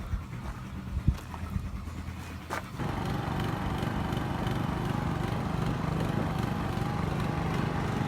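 An old rear-engine lawn mower starts after a few thumps and knocks, then its small engine runs at a steady, loud, continuous drone, close by and without talk.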